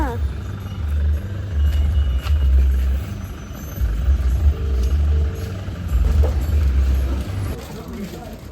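Busy road traffic rumbles nearby in a steady low drone, with passing vehicles swelling and fading and a person talking over the noise.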